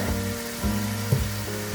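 Onions sizzle steadily as they soften in a pan with a little salt for chicken tikka masala gravy. Rhythmic stirring scrapes sound close by, and no one talks.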